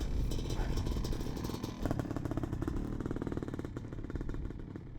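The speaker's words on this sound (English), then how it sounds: "oh, dirt bikes." Dirt bikes pass on a desert trail, a rough engine drone and clatter that is fairly faint and distant, rising into sputtering revs before fading away.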